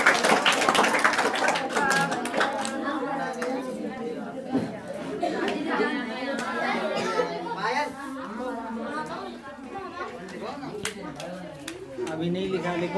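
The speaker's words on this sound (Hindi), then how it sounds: "तालियों के साथ स्वागत करिएगा भाई" An audience at an Independence Day celebration claps to welcome a performer named Nihal; loud clapping opens, then fades and thins as people talk and chatter over it.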